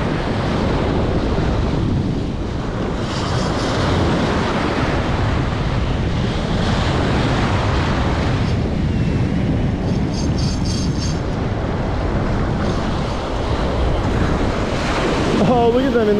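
Ocean surf breaking on a South Shore beach during a striped bass blitz, a loud continuous wash of waves with heavy wind buffeting the microphone throughout.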